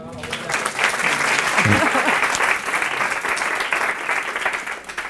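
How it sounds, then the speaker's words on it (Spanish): Audience applause at a talk for business executives, a full, dense burst of clapping from a seated crowd that swells and holds steady over several seconds, with some voices mixed in. "Pues un aplauso"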